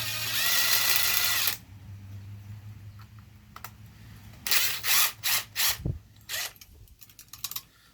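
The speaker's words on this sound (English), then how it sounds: "I've got a it's just a Torx bit set up here on my impact, and I'm gonna run it in for you." Impact driver fitted with a Torx bit running a Thread Wizard bolt cleaner over a gritty, rusty bolt: a loud burst of motor whine at first, then a series of short rattling hammer pulses after a pause, close up with no talking.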